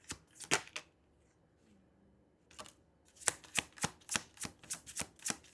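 Tarot cards shuffled and drawn at close range: a few sharp riffling snaps, a quiet pause, then a fast rhythmic run of crisp card flicks and slaps.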